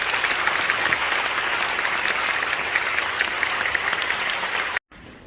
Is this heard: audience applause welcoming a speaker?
yes